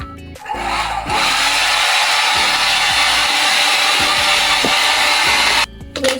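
Hair dryer blowing on hair, a loud close continuous whoosh with a wavering hum beneath it, switched on after a brief pause and cut off near the end.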